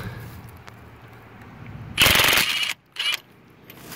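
A Ridgid Octane 1/2-inch impact wrench fires close and loud in a short burst of rapid hammering clatter, stops briefly, then gives a second shorter hit, with quiet background before and after.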